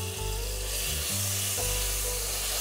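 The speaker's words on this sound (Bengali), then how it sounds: "একটু রসুনটা ভাজবো, 2 চামচ রসুন দেবো" Garlic fries in white oil in a pan, giving a steady, continuous sizzle with a low background hum.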